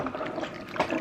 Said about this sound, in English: Just swirling the water around here to get all of the tomato soup out of the can.